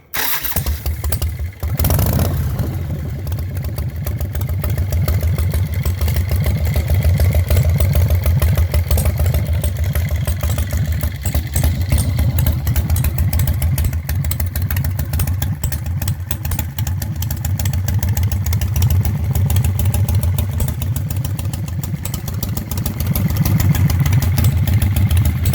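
A 2015 Rods and Rides dropseat custom bobber motorcycle fires up and settles into a loud, steady, close-range idle with a rumbling low throb that holds for over twenty seconds, no talking.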